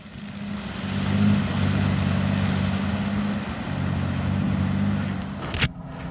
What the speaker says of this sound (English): When the going gets muddy, the torque vectoring system in the Rivian appears to do just as good a job as it does rock crawling